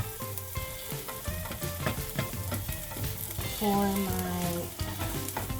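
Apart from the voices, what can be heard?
onions frying in a pan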